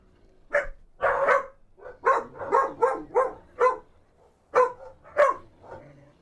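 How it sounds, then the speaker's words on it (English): Several dogs in ARK: Mobile bark in a run of loud, close yaps and bow-wows, coming in quick bursts with short pauses and nobody talking over them. "these dogs are gonna be the end of me. They never used to be so barky."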